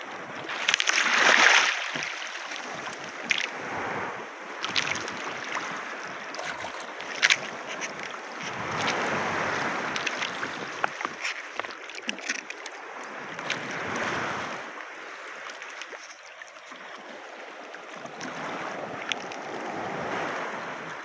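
A small fishing boat out hook-and-line fishing rides big sea waves: a steady rush of wind and water with surging swells of wash that rise and fall, close and fairly loud, with no talk.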